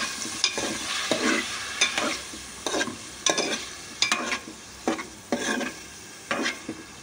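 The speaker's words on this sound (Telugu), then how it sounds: "పన్నీర్ వేగుతుందా అలాగే తినేయాలనిపిస్తుంది చూస్తుంటే" Paneer frying in coconut oil in a pan, with a steady sizzle broken by about a dozen close stirring scrapes in an irregular rhythm.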